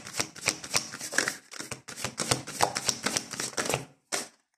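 Tarot cards are shuffled by hand at close range in quick, rhythmic riffling bursts with brief pauses between them, ending in a single short tap, with no talk.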